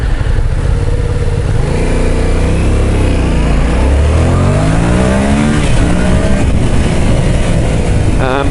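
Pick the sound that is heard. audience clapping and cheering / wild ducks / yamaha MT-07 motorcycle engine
yamaha MT-07 motorcycle engine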